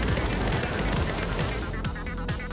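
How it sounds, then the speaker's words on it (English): Sustained automatic fire from a heavy assault rifle in a Minecraft gun mod, a dense loud stream of rapid shots over a continuous bed of game music or ambience, with no pauses across the burst. "The heavy assault rifle's recoil without attachments is high and quickly loses accuracy from sustained fire"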